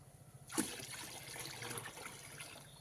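Cold tap water pours into a bucket of warm water, a faint steady trickle that starts with a small splash and keeps running quietly.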